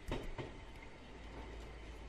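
An ordinary subway train from a video game rolls along steadily with a low rumble, and two sharp clatters of the wheels come early on.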